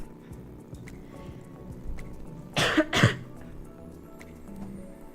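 A person bursts into two harsh, violent coughs close to the mic, loud and sudden against a quiet indoor background, while ill.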